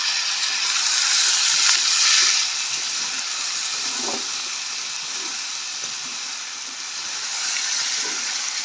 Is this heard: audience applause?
no